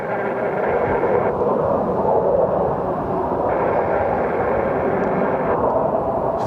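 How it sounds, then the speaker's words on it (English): A Dassault Falcon 50 jet inbound to Cleveland airport roars steadily overhead, a loud continuous engine rumble and hiss heard from outdoors without talk. "Falcon jet over there. Dassault Falcon 50 inbound from I don't know."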